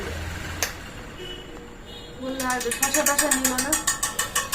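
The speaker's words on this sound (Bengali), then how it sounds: "ফ্যানটার আওয়াজ হচ্ছে খুব ক্যাট ক্যাট করে" Electric fan with a rattling fault: after a quiet room tone, a rapid, regular run of sharp mechanical clicks starts midway and keeps a steady ratchet-like rhythm, close and fairly loud.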